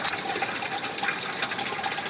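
An electric water pump motor runs with a steady, dense mechanical whir and rattle, alone and fairly loud, with no pauses.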